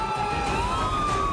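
Police car siren wailing steadily through a highway chase, a continuous rising and falling tone heard loud and close with road noise beneath and no voices.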